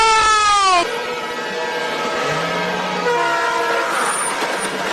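A train sounds its horn as it nears a railway crossing in a Bollywood action scene, a loud blaring horn chord that cuts off and gives way to the sustained rumble and rattle of the passing train.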